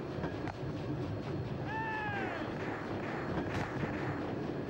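A train rolls along in the arcade shooting game Mad Dog II: The Lost Gold, a steady rumbling wash of noise with a short, rising whistle-like tone partway through.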